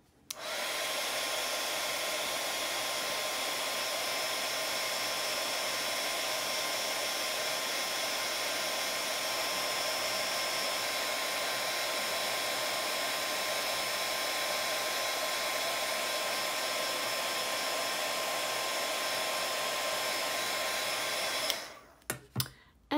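A craft heat tool roars continuously at close range for about twenty seconds while heat-setting a holiday lights card design, then cuts off with a few faint knocks at the end.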